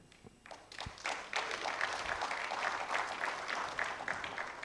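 Applause rises at a memorial lecture after a few scattered early claps and thumps, then settles into a sustained, moderately distant round of clapping from the audience.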